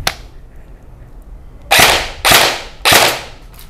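Airsoft gun fired at a target, first a faint single shot then three sharp snapping shots in quick succession, loud and close with no talking.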